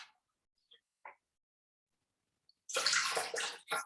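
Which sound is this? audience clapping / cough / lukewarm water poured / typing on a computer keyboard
lukewarm water poured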